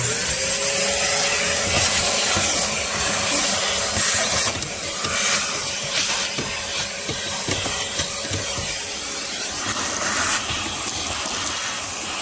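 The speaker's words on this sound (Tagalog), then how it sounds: "i-vacuum lang natin itong mga alikabok" A vacuum cleaner sucks up dust during a car AC evaporator replacement, running continuously up close with a loud whine, its pitch wavering as the nozzle scrapes and rubs across surfaces.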